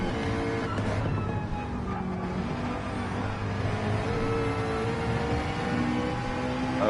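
Race cars, McLarens and BMWs, run past in close formation at Monza in a racing video game, their steady engine drone and whir continuous and moderately loud throughout, with no voices.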